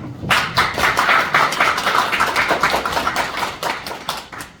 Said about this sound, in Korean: 우리 박수 한번 치고